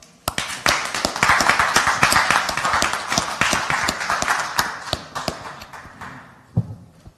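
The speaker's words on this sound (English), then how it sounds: "Let's give them a big round of applause." Audience at a startup pitch event claps after the last startup presents, with sharp individual claps scattered over a steady wash of applause that tapers off near the end.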